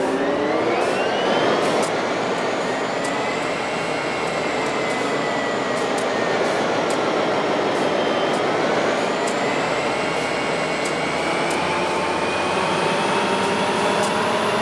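The diesel engine of a BNSF SD40-2 locomotive in a train simulator game runs loud and steady throughout, a constant droning roar that shifts slightly in pitch with faint clicks scattered over it.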